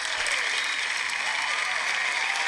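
A crowd's applause, played as a sound effect during a casual interview, steady dense clapping filling the whole stretch at an even, fairly loud level with no talk over it.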